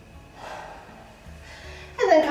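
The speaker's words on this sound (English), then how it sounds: "One more deep breath." A slow deep breath drawn in during a beginner upper body workout, soft and close, rising into a louder airy exhale at the end.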